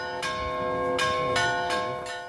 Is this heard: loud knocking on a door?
no